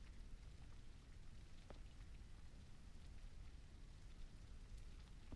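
Rain falling outside, heard as a steady dense hiss of drops with a low rumble underneath, continuous and even throughout, distant and quiet with no talking.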